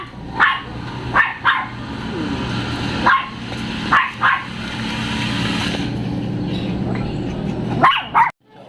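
A dog barks repeatedly in short bursts of one or two, close by, over a steady low rumble like a passing car.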